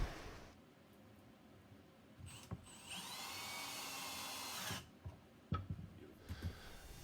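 Power drill driving angled screws into pine bench boards, a sustained whine of several seconds in the middle, with short knocks and handling noises before and after.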